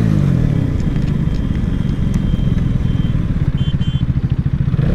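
A Karizma XMR 210 with a 39-tooth sprocket races an RC200 in a drag run, giving a loud, close, pulsing engine drone that holds steady in high gear and throbs faster toward the end.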